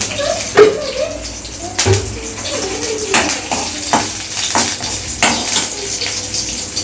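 Urad dal fries in a little oil as tempering for chayote chutney, giving a sputtering crackle broken by close, sharp clinks and scrapes of a spoon against the pan.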